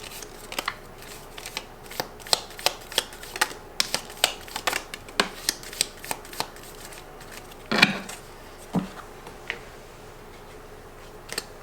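Tarot cards being shuffled in a quick series of crisp riffling bursts, close and fairly quiet, with a couple of heavier slaps near the end.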